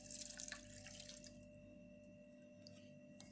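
Water poured from a tap into a pot in a home kitchen, a bright splashing stream up front that fades into a low steady hum.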